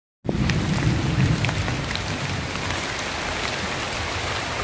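Heavy rain falls at a bamboo-lined fishing spot in the late afternoon, a loud, steady, close hiss of drops. A deep thunder rumble rolls beneath it at the start and then fades.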